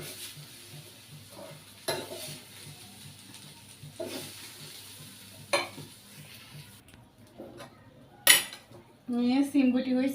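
Flat bean pods are stir-fried with garlic in a pan on a rooftop in a Bangladeshi village, with repeated spatula scrapes and clinks against the metal over a soft sizzle, plus a few sharper knocks near the end.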